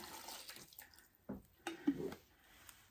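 Liquid poured into a crockpot for vegetable beef soup, heard as faint, quiet splashes and a few brief trickling bursts with no one talking.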